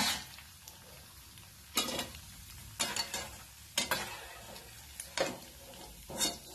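Mini samosas deep-frying in hot oil, a steady sizzling hiss broken by several sharp bursts of spattering and scraping about a second apart, close and fairly loud, with no talking.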